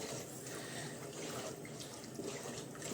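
Water runs into a cooking pan while preparing a layered roqaq pastry dish on the stovetop, a steady splashing stream with faint sizzle-like texture, close and uninterrupted.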